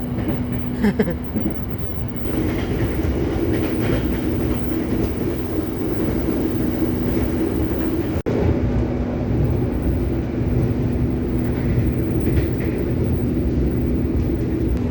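Steady low rumble and a constant hum fill the cabin of the Argo Parahyangan passenger train on its run toward Bandung, holding an even level throughout with one brief click partway through and no voices.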